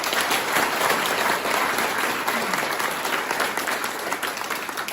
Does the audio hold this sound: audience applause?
yes